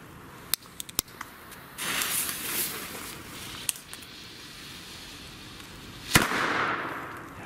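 Several sharp Broekhoff Reaper firecracker bangs go off, a few quick ones early and a louder blast near the end, followed by crackling hiss and outdoor noise.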